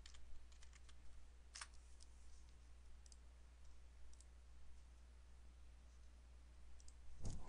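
Quiet typing on a computer keyboard: scattered, light key clicks in irregular bursts over a low steady hum, close and faint, with no voices.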